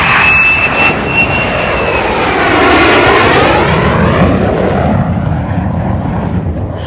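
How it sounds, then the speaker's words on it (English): F-35 fighter jets roar low overhead near an RV park, a loud sweeping jet rumble that swells as they pass and slowly fades, with a high whine trailing off at the start. "I'm going to miss not hearing those F-35s in the morning."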